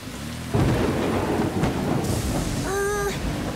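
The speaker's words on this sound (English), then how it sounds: "The storm's really starting to pick up." Steady heavy rain pours through a cartoon thunderstorm on a slippery mountain road, with a deep thunder rumble building underneath and a distant cry briefly rising over the downpour.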